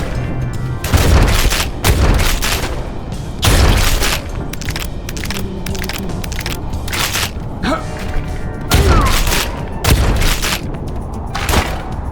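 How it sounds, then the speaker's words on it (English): Bursts of video game gunfire ring out during a theme-park boss fight, loud booming volleys and cracks repeating in clusters across the stretch, with sharp thuds standing out among the shots. "Gunshots."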